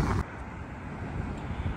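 Steady wind in Spain rushes and buffets the microphone in a low, continuous roar, with a brief louder gust at the very start.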